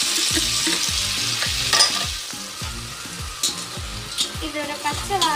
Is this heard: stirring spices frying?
yes